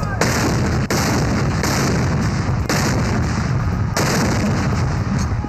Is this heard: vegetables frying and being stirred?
no